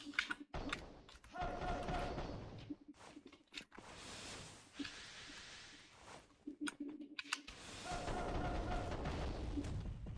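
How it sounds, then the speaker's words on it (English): Gunfire in a Unity-built shooter game, sharp bursts of shots in several clusters across the clip, loud and close, with quieter gaps between volleys. "why are they shooting up there?"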